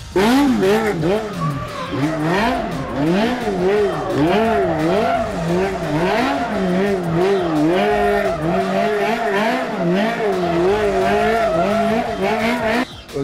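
A race car powered by a 115 hp motorcycle engine with a five-speed sequential gearbox drives past with a loud, wavering engine note that rises and falls continuously, close and dominant throughout.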